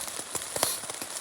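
Rain patters steadily on surfaces just outside a shelter in the woods, a soft continuous hiss with scattered drops tapping, moderately faint and with no voices.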